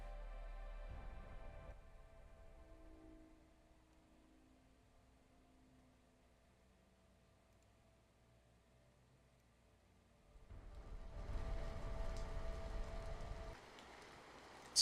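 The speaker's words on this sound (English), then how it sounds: "Starts to rain." Rain begins, a soft hiss that swells into a louder, steady wash of falling drops after a quiet stretch with faint background tones.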